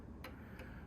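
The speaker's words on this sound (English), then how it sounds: "it'll keep ticking for as long as the wind allows" A 1930s Sessions mantel clock ticks steadily, two crisp ticks about a third of a second apart, close and clear over a quiet room hum.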